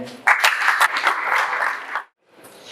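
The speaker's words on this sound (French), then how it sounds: "J'ai pensé qu'on allait acclamer." An audience at a university entrepreneurship conference bursts into close, dense applause for about two seconds, then it cuts off abruptly and the room goes quiet.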